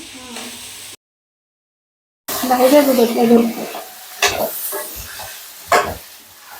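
Punugulu fritters fry in hot oil with a bright sizzle and occasional stirring clatter, broken by a short silence, while a person talks over the cooking.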